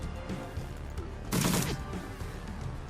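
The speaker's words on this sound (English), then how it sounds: "We'll just walk into melee range and unload a clip into him." A short submachine-gun burst fired point-blank in a turn-based video game, heard as a single loud, dense clatter of about half a second standing out mid-clip against a steady game soundscape.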